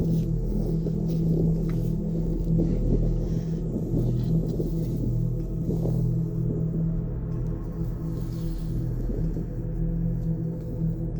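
A car engine rumbles steadily on a Himalayan mountain road, a continuous low drone with a hum that stays loud and even from start to finish, with no voices.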